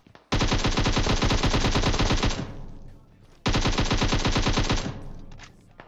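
Two long bursts of rapid automatic gunfire in the video game PUBG Mobile, loud and close, each trailing off into a brief lull before the next volley.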